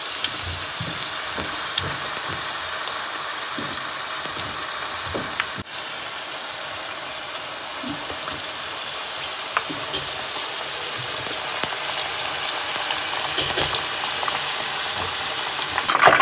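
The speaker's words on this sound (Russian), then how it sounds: "Чебуреки, видите, я положила в масло, и чебурек утонул в масле." Chebureki deep-frying submerged in plenty of hot oil give off a steady, dense sizzle and crackle throughout, close and even, with occasional faint pops and small clinks.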